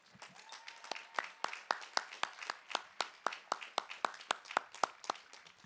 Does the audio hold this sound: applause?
yes